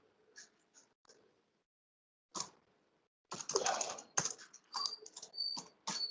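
Keys clatter on a computer keyboard as code is typed, scattered soft taps first, then a quick denser flurry of keystrokes, close and fairly quiet.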